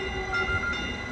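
A Caltrain commuter train pulls into Menlo Park station, a steady loud rumble of the rolling train with whining tones and a slight swell midway, heard on its own with no talking.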